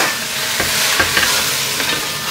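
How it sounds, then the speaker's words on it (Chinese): French beans frying in a hot wok, a loud, steady sizzle and crackle with a few sharp pops and stirring knocks, close and continuous. "来煎一下那个乌龟豆啊"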